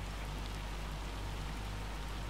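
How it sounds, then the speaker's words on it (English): Heavy rain pours down in the farming video game Farming Simulator 25, a dense, steady hiss of falling water that continues without a break throughout. "as you can see, it is pelting it down"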